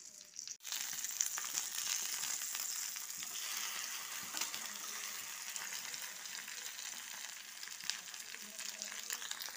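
Eggplant slices fry in a pan of oil with a steady, even sizzle that carries on without a break, close by and with no talking.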